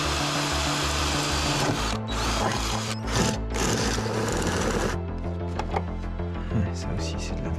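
A cordless drill with a nearly dead battery running in short, uneven whirring bursts during work on a car hood air intake and snorkel, close and loud, with speech between runs.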